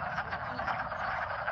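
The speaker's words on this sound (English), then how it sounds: "The next night was full of breeding wood frogs." Wood frogs in breeding season call in a dense, steady chorus of overlapping croaks, close and continuous throughout, with no voices.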